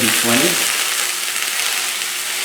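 80-20 ground beef sizzling in hot oil in a pan, a steady close hiss of frying running throughout with a brief clink at the start.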